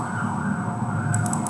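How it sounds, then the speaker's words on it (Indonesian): An ambulance siren sounds near a school, a steady wailing tone that is loud and close, with traffic rumbling underneath. "Mohon maaf banyak ambulan lewat di dekat sekolah."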